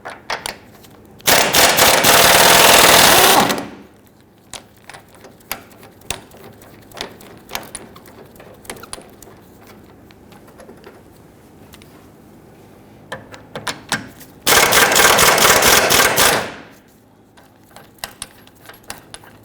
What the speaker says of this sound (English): we're now going to use our 19mm socket and an impact gun. We want to loosen the 2 front bolts on our engine cradle